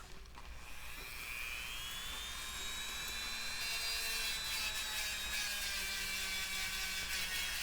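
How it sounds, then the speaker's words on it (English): Dremel rotary tool with a soft brush scrubbing surface rust off a VIC-20 computer part, a steady high-pitched whine rising in pitch as it spins up, continuous and close, with no talking. "I have got a Dremel with a nice soft brush on it."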